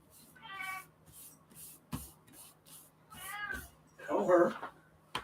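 A house cat meows several times indoors, close and fairly loud, its calls mixed with a person's voice, who also imitates the meow.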